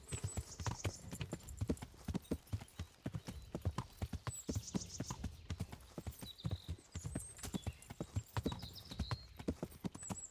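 Horse hooves clip-clop in a brisk, uneven rhythm on a ride in the video game Kingdom Come Deliverance, close and steady, with a brief whinny and high bird chirps over the top.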